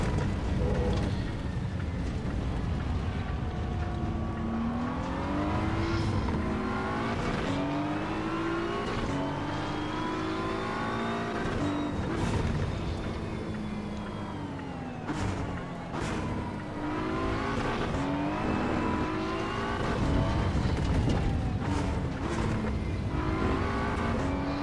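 A Ferrari race car engine in the video game Assetto Corsa EVO drones and revs without a break, pitch climbing through the gears with quick drops at each shift, loud and close from the driver's seat with no talk.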